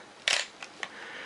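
Pentax K camera shutter firing at 1/250 second: a sharp mechanical clack followed by two smaller, quicker clicks, close and crisp with a faint background hiss.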